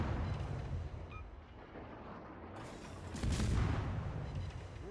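Enemy ship gunfire booms in World of Warships, with deep rumbling blasts that swell twice and a heavy salvo near the middle, over a constant low engine and sea roar.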